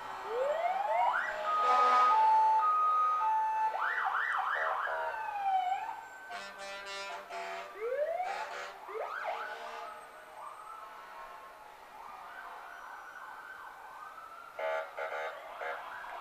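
Volunteer fire department fire trucks blare wailing, rising and falling sirens at a Christmas parade, loud and close at first, then continuing in overlapping bursts with horn-like blasts.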